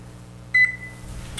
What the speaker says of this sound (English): turn on your oven and preheat to 350 degrees